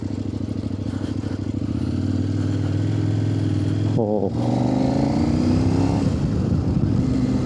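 A brand-new 2025 Kove 800X Pro motorcycle engine runs cold in eco mode, a loud steady close-up drone that rises in pitch as it revs, with a short exclamation from a rider over it.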